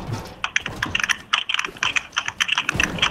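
Computer keyboard keys clatter rapidly during a game, a dense run of close, crisp clicks and crunchy presses with uneven rhythm and no talk.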